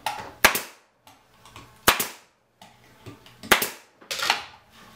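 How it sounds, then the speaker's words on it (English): Staple gun driving staples into a wooden Ross Round honey super frame, five sharp snapping shots spaced about a second apart, close and loud with no talking. "then you can just staple it however you like"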